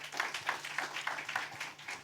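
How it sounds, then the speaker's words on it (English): Audience applause at a 2018 Asia-Pacific philanthropy summit conference panel, a soft, steady patter of many hands clapping at moderate distance, filling the whole moment without talk. "let's give Haruka a warm round of applause."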